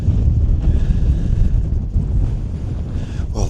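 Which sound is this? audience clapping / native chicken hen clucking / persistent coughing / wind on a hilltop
wind on a hilltop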